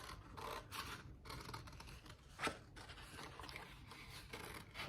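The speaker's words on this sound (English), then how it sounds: "And I'm just gonna cut it, and then we'll place it on our mug." Scissors snip through a printed sublimation transfer sheet for a mug, a series of faint close cuts and rustles with one sharper snip midway, no talk.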